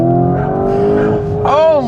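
An 800-horsepower 2025 Lamborghini Urus accelerates hard on a country road, its engine roaring close and loud for a couple of seconds while a voice exclaims over it.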